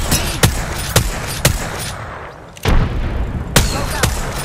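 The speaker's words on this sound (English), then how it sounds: "They're shooting at me!" Loud gunfire in Apex Legends: repeated heavy shots and bursts ring out close at regular intervals, with a brief lull midway before the shooting resumes.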